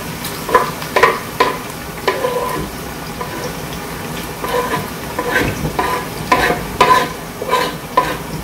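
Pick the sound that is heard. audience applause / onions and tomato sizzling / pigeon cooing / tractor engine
onions and tomato sizzling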